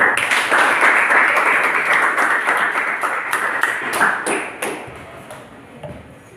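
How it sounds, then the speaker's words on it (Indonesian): A classroom full of students clapping for a group after its answer, loud and brisk at first, then thinning out and tapering off toward the end. "Tepuk tangan untuk kelompoknya Marin."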